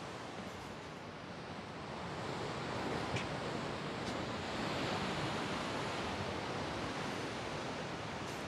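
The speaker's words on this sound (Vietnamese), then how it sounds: "Sóng dạt dào dạt dào." Sea waves break and wash on a beach at Nha Trang under a cloudy sky, a steady broad roar with some wind, close and continuous.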